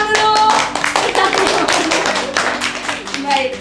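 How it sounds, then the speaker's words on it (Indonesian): Dense, loud clapping from an audience at a lively quiz-style stage event, filling the whole moment with rapid overlapping hand claps under a few musical tones and voices. "Tepuk tangan dulu."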